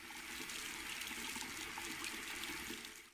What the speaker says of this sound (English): This gentle fizzle and pattering of water